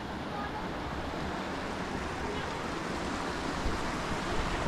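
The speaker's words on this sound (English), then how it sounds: "I think I want to go sit in that waterfall right there" Waterfall pouring among boulders at an outdoor camping spot, a steady broadband rush of falling water, fairly loud and unbroken, with no voices over it.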